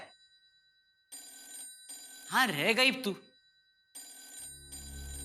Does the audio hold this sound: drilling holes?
no